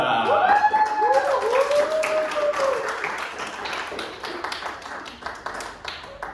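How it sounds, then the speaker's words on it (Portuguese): A theatre audience at a student drama and dance production claps to welcome two performers. A brief rising, whistling tone opens it, then scattered clapping builds and lingers at a modest level with some tapping. "recebam com muitos aplausos Melibea e Julieta!"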